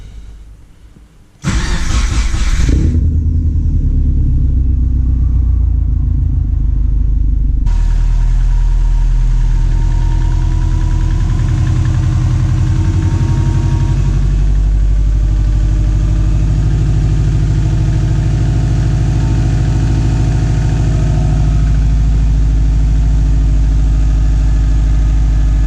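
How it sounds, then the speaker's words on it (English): A Subaru Forester XT engine cranks and catches in a loud cold start, flares briefly, then settles into a steady, rumbling idle that continues close and loud for over twenty seconds with no talking. "hopefully we get a cold start for everybody and no leaks"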